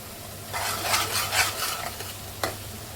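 Kashmiri chilli and ground ginger-garlic paste frying for Mumbai-style pav bhaji, a steady close sizzle with bursts of stirring scrape and a sharp clink near the end, no talking.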